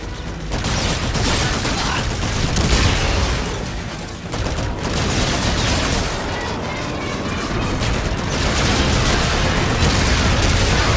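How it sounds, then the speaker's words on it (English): Heavy, continuous booming and crackling blasts fill the scene in the video game Call of Duty: Infinite Warfare, dense and loud, like a chaotic battle with explosions. "There's an explosion behind me."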